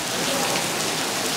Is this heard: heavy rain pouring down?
yes